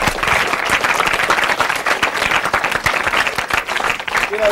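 An audience applauds continuously after a talk, dense clapping from a sizeable crowd, loud and steady throughout, with a brief voice near the end.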